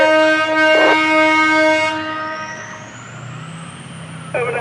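Locomotive 16607 backing into the main yard of a railroad on its opening day, with a loud, close horn blast over rumbling engine noise that fades and steadies as it rolls slowly away.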